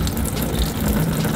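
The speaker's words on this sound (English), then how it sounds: "it's draining all the coolant" Coolant pours out of a BMW E36/E30 radiator system as a steady, close gush of liquid, a continuous splashing rush with no pauses.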